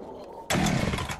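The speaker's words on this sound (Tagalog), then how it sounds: "Ayun, naka-chainsaw." A chainsaw in a Roblox game suddenly starts up partway through, a loud buzzing engine whine that cuts in abruptly after a quieter stretch and runs steadily to the end.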